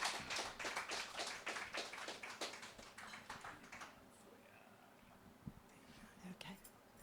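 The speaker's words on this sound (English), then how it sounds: "give her a bit more applause as she's getting to the stage." A small audience at a reading event claps fairly quietly, with a burst of individual hand claps that fades out after about four seconds and leaves a few scattered taps and faint room noise.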